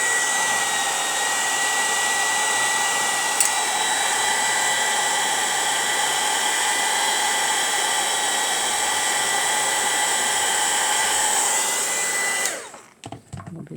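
A heat gun blows a steady, loud hot-air roar while heating plastic, running unbroken for about twelve seconds before cutting off abruptly into a softer rustle.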